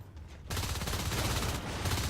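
Rapid automatic gunfire from the video game Natural Selection 2, a dense loud burst of shooting that starts abruptly and carries on without a break.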